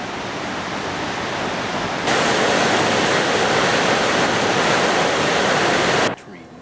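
A river flows beneath a suspension bridge on a Cascades trail, a steady close rush of water that swells louder partway through, then cuts off abruptly near the end.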